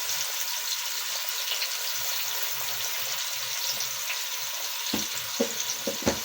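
Onions frying in a pan for kadhi pakora give a steady, close sizzle throughout, with faint stirring and a few soft clinks near the end, no voices.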